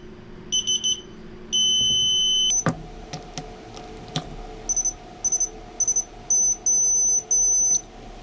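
A small speaker on an electronic device gives a series of loud, high-pitched beeps, some short and some long, in an irregular pattern with a few clicks and handling knocks between them.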